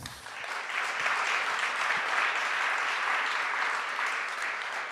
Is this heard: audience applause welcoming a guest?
yes